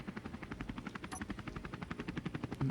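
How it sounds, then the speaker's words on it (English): Helicopter engine from a Space Engineers mod: a steady, rapid rotor thump over a constant engine drone, fairly close and uninterrupted. "The helicopter sound effect."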